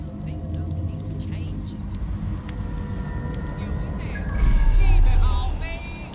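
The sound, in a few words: stolen Albion heavy assault vehicle driving, Watch Dogs: Legion video game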